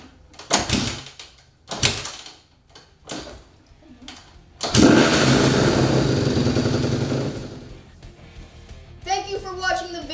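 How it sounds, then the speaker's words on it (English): A Honda CRF150R motorcycle engine cranks over and starts after an oil change, then runs at a steady idle for several seconds before the revs drop; clattering and shuffling sounds come before and after. "let's start the bike up again so we can let the oil flow through the engine"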